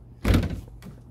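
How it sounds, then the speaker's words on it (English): A van door opens with a heavy thunk and a short rattle, then a softer knock follows close by, with no voices. "door doesn't like to stay open."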